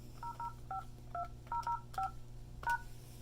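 Keypad tones beep as a password is entered on an Avaya J series IP desk phone, about nine short evenly paced DTMF presses, quiet and close with a steady low hum beneath.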